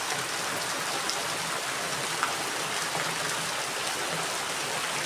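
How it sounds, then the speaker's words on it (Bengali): Heavy monsoon-style downpour drumming steadily on surfaces, a dense, continuous rush of rain that stays loud and even throughout, with no voices. "পুরা ধমে একদম মুষলধারে বৃষ্টি হচ্ছে।"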